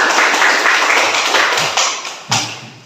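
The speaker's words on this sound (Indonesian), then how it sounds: "anak kasih tepuk tangan dulu untuk Lovita" A classroom of students claps for a classmate in a dense burst of hand claps, close and loud, with a couple of sharper taps near the end.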